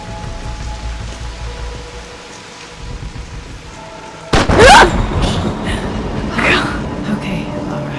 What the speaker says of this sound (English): It's just the thunder. I love the rain.